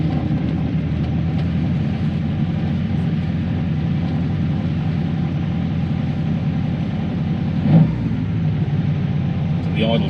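Ferrari 308 engine idling after restoration, a steady low mechanical drone with even rumble throughout as the idle slowly rises while warming, with one brief louder knock or thump near the end.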